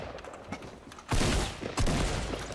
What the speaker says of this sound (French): On va tester le pompe du coup.